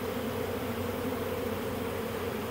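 A honey bee swarm fanning pheromone, with tails raised, produces a dense, steady, close-up buzz that holds even and unbroken throughout, with no voices.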